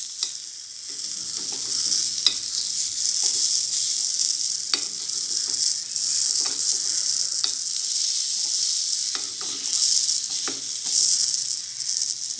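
Mixed dal appe sizzle steadily in a pan after being turned, a continuous bright frying hiss with scattered small pops and clicks, close and fairly loud, no talking.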